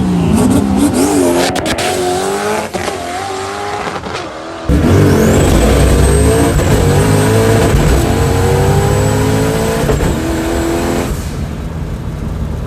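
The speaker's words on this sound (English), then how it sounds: "So we decided to make a test pass on Friday to check out the track." A drag racing car makes a test pass down the track with a loud engine roar, a sudden surge in volume as it launches, and a high whining pitch that rises then holds before fading near the end.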